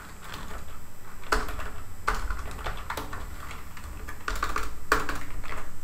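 Computer keyboard keys clack in quick, irregular bursts while code is written, close and moderately quiet, with short pauses between runs of typing.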